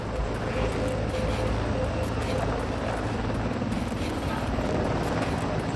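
AH-64 Apache attack helicopter flying, a loud steady rotor and engine roar with rhythmic blade chop running unbroken through the whole stretch.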